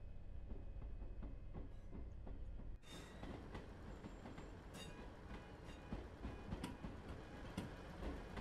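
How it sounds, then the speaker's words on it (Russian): Wheels of a Class 158 Sprinter train clack along the rails in Train Sim World 4, a steady rolling rumble with repeated rhythmic knocks, brightening into sharper clatter partway through, continuous and without talk. "Стук колес послушать"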